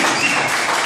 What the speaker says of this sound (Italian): Facciamo ancora un applauso.